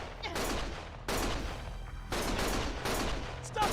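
Dense video game gunfire, bursts of rapid automatic shots and heavy blasts that come in loud sustained waves with brief gaps between them, with no talking.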